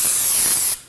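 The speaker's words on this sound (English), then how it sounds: "Using some brake parts cleaner." Brake parts cleaner sprayed onto a brake rotor on a 2017-2024 Nissan Armada, a single close, loud hissing burst that lasts under a second and then stops abruptly.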